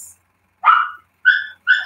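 A pet dog named Dax gives three short sharp barks in quick succession, fairly close and loud with brief silences between.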